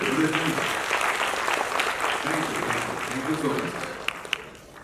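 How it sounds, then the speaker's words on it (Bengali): Audience applause after a dance drama at a prize-giving event, steady clapping through the whole stretch with a voice speaking over it near the end and a couple of sharp claps standing out. "সবাই আরেকবার হাততালি দেবে।"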